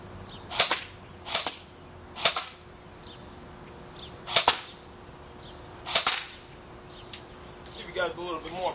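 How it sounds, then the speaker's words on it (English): M4A1 rifle fired outdoors, six sharp cracking shots spaced about a second apart, loud and close, each with a brief echo tail, with faint talk at the end. "And I'm going to be shooting in about 3,"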